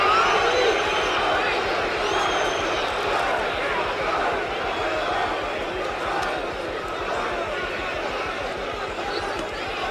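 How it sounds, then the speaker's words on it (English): Boxing crowd cheering for Muhammad Ali at his fight with Ken Norton, a dense, continuous roar of many voices with scattered whoops, steady and loud throughout. "fans are cheering for Ali"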